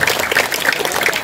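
An audience at a Balinese comedy show applauds the gamelan players in a dense, loud wash of many hands clapping together, steady throughout and without talk.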